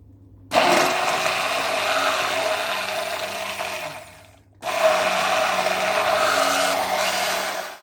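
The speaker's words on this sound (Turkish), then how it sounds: "Ispanaklarımızı püre haline getirene kadar iyice blender veya rondodan geçiriyoruz." Blender or food processor pureeing spinach, a loud steady motor whir with blade grinding, running in two bursts separated by a brief pause.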